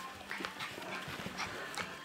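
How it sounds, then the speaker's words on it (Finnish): An energetic dog moves about close by, with quick panting, snuffling and small whimpering sounds over a steady background hiss. "Tämä se on vähän energinen koira tämä"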